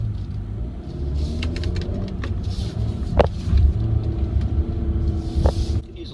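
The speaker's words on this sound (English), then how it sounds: "The sport mode, on the other hand, let's go ahead and engage that and take a corner here and see how sport mode works." A 2016 Kia Optima driven in sport mode through a corner, with a low steady engine and road rumble from inside the cabin, a few brief knocks and bumps over the top, and no talking.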